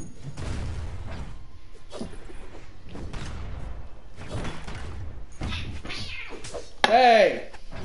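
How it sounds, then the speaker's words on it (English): A cat meows briefly and faintly near the end, behind continuous casual talk from a gaming livestream. "friggin' cats, man"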